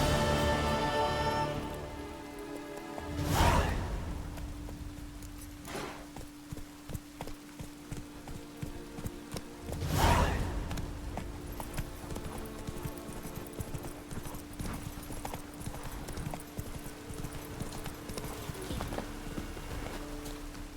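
Horse hooves clip-clop steadily in The Witcher 3: Wild Hunt, an even walking rhythm heard alone under game ambience, with two louder thuds along the way.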